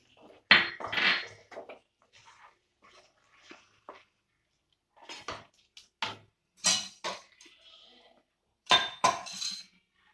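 A spoon stirring jackfruit rava kesari with ghee-fried cashews and raisins in a pan, heard as sharp metallic scrapes and clinks in irregular bursts separated by near-silent gaps.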